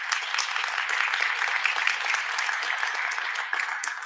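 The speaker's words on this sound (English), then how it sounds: "Give them another round of applause." An audience at a city's state of the city address gives a round of applause, a steady wash of clapping that holds at an even level throughout.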